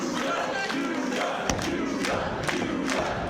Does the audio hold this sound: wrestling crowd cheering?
yes